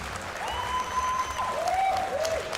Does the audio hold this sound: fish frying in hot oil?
no